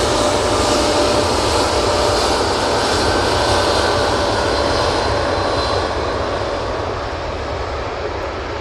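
A Boeing 787-8 Dreamliner takes off from Manchester Airport, a loud, sustained jet engine roar with a thin whine that fades slowly as it climbs away. No one speaks.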